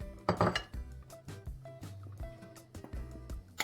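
Dry ingredients for coating chicken are moved onto a wide plate with clinks and scrapes of a utensil against dishware, a series of light irregular knocks close by.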